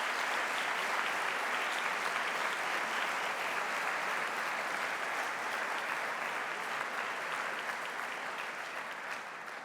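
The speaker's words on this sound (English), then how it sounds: "Graduands, please join me in a round of applause to thank all those people who've helped you along the way" Graduands at a Nottingham Trent University graduation ceremony in 2015 give a sustained round of applause, a steady wash of many hands clapping in a large hall, heard at a distance and easing gently at the close.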